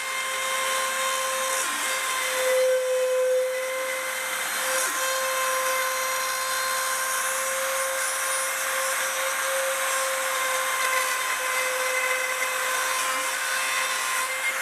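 A plastic drywall router runs at full speed with a steady high-pitched whine while plunging into and cutting drywall around an electrical box, a continuous close motor drone with slight shifts in pitch as it cuts.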